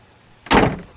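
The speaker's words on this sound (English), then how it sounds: "Pete, I'm going to shut the door." The door of a 1973 AMC Gremlin X Levi Edition swings shut with one solid, close, heavy thump and a short rattling tail, alone in a quiet setting.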